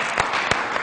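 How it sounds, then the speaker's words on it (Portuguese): Brief burst of audience clapping at a talk, a few sharp claps rising out of a steady broadband patter over less than a second. "Vamos aplaudir!"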